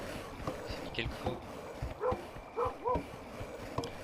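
A dog in the video game Kingdom New Lands whimpers and yips in a few short, high, whiny calls, quiet under soft game ambience and someone talking.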